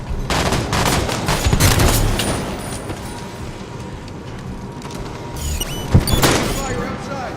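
Grenade and gunfire in the video game Halo 5, dense bursts of rapid shots early on, quieter crackling in the middle, then a sharp blast near the end, with voices heard through the action.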